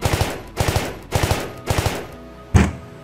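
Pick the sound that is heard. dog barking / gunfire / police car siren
gunfire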